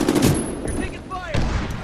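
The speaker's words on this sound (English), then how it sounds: "You're taking fire." Gunfire in the video game Medal of Honor: Warfighter, bursts of rapid automatic shots close up, mixed with game effects and a brief radio-style voice.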